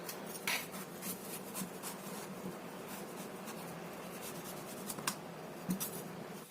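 A knife peels food by hand with soft, continuous scraping and rubbing, broken by occasional light clicks and taps at close range.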